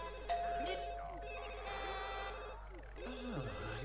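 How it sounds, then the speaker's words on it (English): A telephone rings in The Sims Bustin' Out video game, its tone repeating through the whole stretch over game music and background sound, with no talking. "Somebody's on the phone. Well, calling rather."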